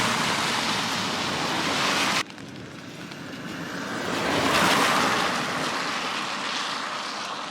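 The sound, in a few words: moderately heavy rain with traffic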